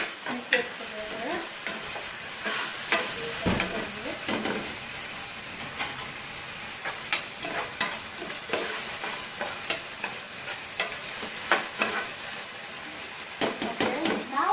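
Food sizzles in a hot pan during stir-frying as oyster sauce is mixed in, with a steady frying hiss broken by repeated scrapes and clatters of a utensil against the pan.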